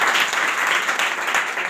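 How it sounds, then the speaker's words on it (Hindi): Loud, dense applause from an audience at a motivational gathering, honoring a successful guest, with continuous clapping and no pause. "तो सबसे पहले हम लोग एक सफल व्यक्ति के लिए जोरदार तालियां बजाएंगे।"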